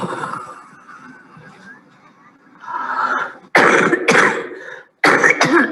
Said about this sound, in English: remember to keep huffing until you've got the urge to cough